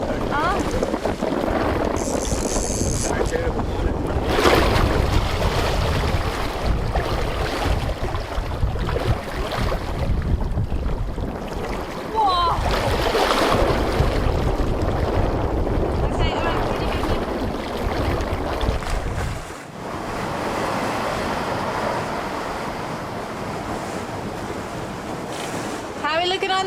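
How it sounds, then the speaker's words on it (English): A sailboat beats upwind into a 20-knot breeze at sea, with wind buffeting the microphone and water rushing and slapping the hull in a loud, uneven wash, while voices talk over it now and then. "just as we're bashing upwind into 20 knots"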